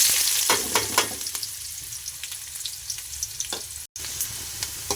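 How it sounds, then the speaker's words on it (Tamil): Chopped onions sizzle steadily in hot oil in a pan for a chicken curry, a dense bright frying hiss with occasional stirring scrapes and pops, close and continuous with no talking. "நன்றாக வெங்காயம் வதக்க வேண்டும்."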